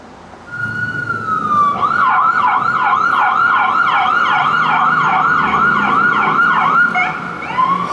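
Emergency vehicle sirens on a New York street wail loudly and close by in rapid repeating yelps over low traffic rumble, building up after a second and holding for several seconds.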